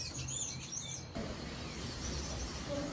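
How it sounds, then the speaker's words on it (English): A small yellow bird chirps in short high tweets over outdoor background noise, fairly faint and without talk. "Look at the cute bird."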